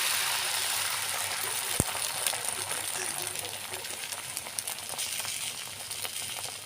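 An egg frying in oil, a soft steady sizzle with light crackle beneath a single sharp tap, faint and continuous with no voice.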